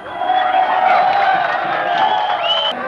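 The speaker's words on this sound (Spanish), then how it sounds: "Mira la gente como aplaude porque se fugaron" A crowd of onlookers cheers, whoops and claps continuously as a helicopter escapes from a prison, a dense, loud wall of voices close around the listener.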